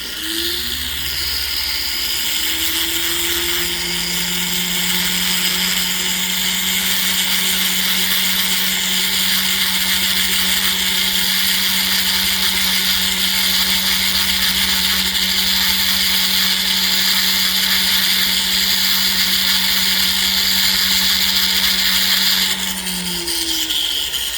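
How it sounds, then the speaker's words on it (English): A power tool grinds down excess metal on a ring being resized to 7.5, a steady, loud, continuous whine that holds evenly for over twenty seconds, spinning up at the start and winding down at the end. "So we're going to grind most of it down, then we're going to use a file to finish it."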